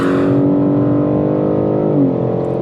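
A 2021 BMW G82 M4 Competition engine droning on the Mid-Ohio track, loud and steady with a strong harmonic tone, its pitch shifting slightly near the end as the revs change.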